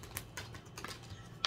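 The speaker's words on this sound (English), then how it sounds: "I'm going to go ahead and shuffle for you guys at least three times" Oracle cards shuffle in quick, light, papery riffles and taps, several soft bursts close by over about a second and a half with no speech.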